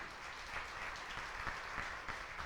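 A church congregation claps during a celebration service, a continuous spread of applause heard faintly and at a distance, with a few sharper claps standing out.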